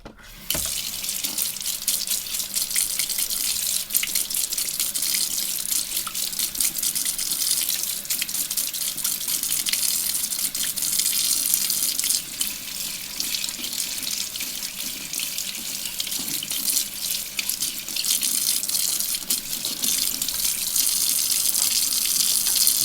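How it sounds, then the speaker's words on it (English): Steady, loud rush of tap water pouring into a sink for over twenty seconds while Coleman Quicklite lantern parts are rinsed of citric acid, with faint shifts as the parts move under the stream. "I'm going to rinse these in water to get the citric acid off"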